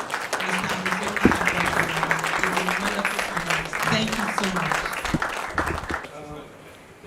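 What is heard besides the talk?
audience applause for Dr. Barnabas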